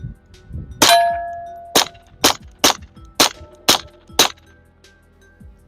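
Walther PPK/S .22LR pistol firing seven sharp, close shots in an uneven string about half a second apart, each crack ringing briefly with a metallic clang.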